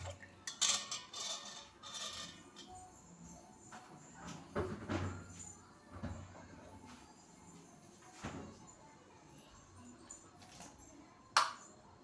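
A spoon stirring sugar into watermelon juice gives faint, scattered clinks and scrapes against a container, with soft kitchen clatter in between.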